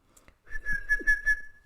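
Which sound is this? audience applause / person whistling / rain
person whistling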